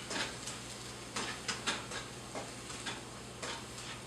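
Onions sizzling faintly in a pan while being moved around, with soft scattered taps and scrapes of a utensil over a steady low background hum.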